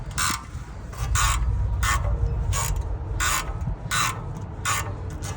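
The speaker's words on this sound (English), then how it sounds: "So let's get these 4 bolts pulled out and move on to the next step." Ratcheting 13/16 socket wrench working the rear brake caliper bolts on a 2019 Ford, a close, repeated rasping click in regular bursts about every half second over a steady low rumble, with no talking.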